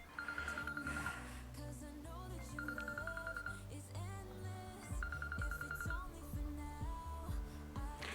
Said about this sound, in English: that's my dad ringing me again for the second time.